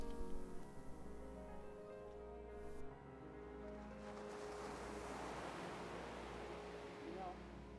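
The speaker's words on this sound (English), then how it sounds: "it's nice to hear the sounds of the ocean and the waves" Ocean surf rolls and washes steadily at sea, a soft continuous rush of waves with wind under a low sustained musical drone, faint and distant.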